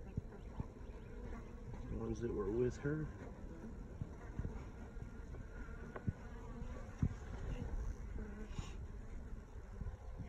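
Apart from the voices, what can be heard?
honeybees buzzing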